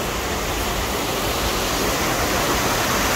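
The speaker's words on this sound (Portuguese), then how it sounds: "Olha aí, gente. Água à vontade." Water pours freely from a water wheel in Blumenau, released by a lever, a loud, steady, close rushing roar of falling water with no talking.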